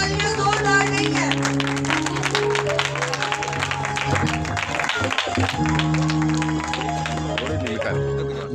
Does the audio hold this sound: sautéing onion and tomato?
no